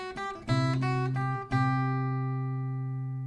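Acoustic guitar playing the second ending of a song: a few quick strums, then a final chord left ringing and slowly fading, heard alone and close.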